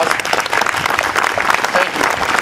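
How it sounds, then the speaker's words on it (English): Applause from an audience honoring the city council and staff at a Faribault Beyond the Yellow Ribbon ceremony, a brief steady patter of many hands with no break. "Round of applause."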